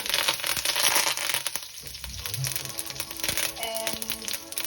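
Mustard seeds, cumin seeds, dried chili and curry leaves crackling and spitting in hot oil for dhal, a close, busy sizzle with bursts of popping and no talk.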